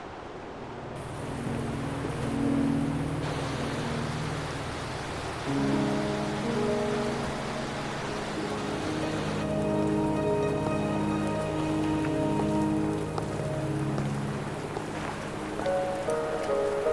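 Rain pours steadily in the Huanglong region of the video game Wuthering Waves, a constant soft patter layered under sustained musical tones.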